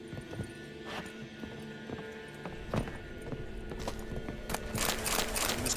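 Horse hooves clip-clop in the open-world action game The Witcher 3: Wild Hunt, a steady rhythmic trot close by over a busy bed of game ambience and music.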